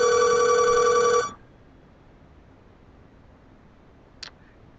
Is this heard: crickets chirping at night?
no